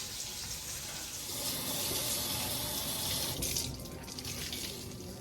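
Tap water runs steadily into a sink while a quartz countertop is rinsed after cleaning with dish soap, a continuous close hiss and splash with no talking.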